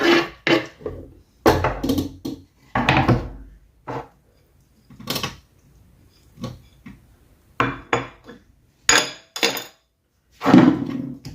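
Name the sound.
mixing rice with chicken liver, parsley, olives and preserved lemon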